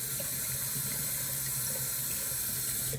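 Tap water runs steadily from a sink faucet during a wet shave, splashing over an alum block held under the stream; a continuous, close hiss that cuts off abruptly at the end.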